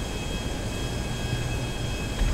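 Jet-plane engine from GTA Online races a steady, loud roar that drones on unbroken with no voices over it.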